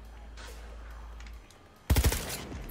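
SMG fire in Cyberpunk 2077, a short loud burst of three or four rapid shots after a quieter stretch of game ambience, with a hum dropping out just before.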